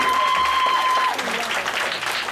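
Audience applause at a small live music venue in Taipei, a short loud burst of clapping close up with a brief tone ringing under it, then thinning out as the clip ends.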